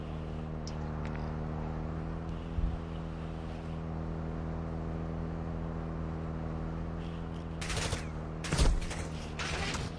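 Bursts of gunfire in an online team shooter game crack out near the end, over a steady low vehicle-like engine drone that runs throughout.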